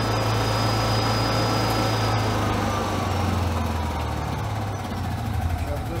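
A Honda EU6500is generator converted to propane runs steadily nearby, a loud constant engine drone with a low hum that shifts slightly as it is adjusted, no talk.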